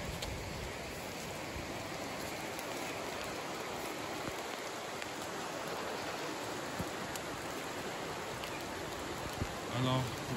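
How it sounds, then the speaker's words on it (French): Steady, loud rain hisses beside a high, flooding river, with the rush of water blending into one dense, unbroken wash of noise throughout. "Il pleut, le temps est moche. La rivière est un peu en crue"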